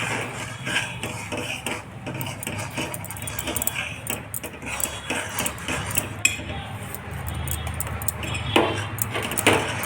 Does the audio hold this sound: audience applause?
no